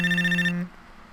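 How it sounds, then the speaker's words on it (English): A cell phone vibrating sample from the Mixcraft sound library: a loud, buzzing electronic tone holds steady for about half a second, then cuts off abruptly. "this is a cell phone vibrating"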